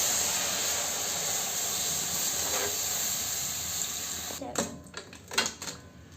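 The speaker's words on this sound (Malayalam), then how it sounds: "ഇത് നല്ലപോലെ ഒന്ന് മിക്സ് ആയപ്പോഴത്തേക്കും ഞാൻ അതേ പാൽ ആഡ് ചെയ്യുന്നുണ്ട്" A steady hiss, likely milk going into a hot pan of caramelised sugar and adai for palada payasam, sizzles loudly and close for several seconds, then gives way to a few spoon clinks and scrapes near the end.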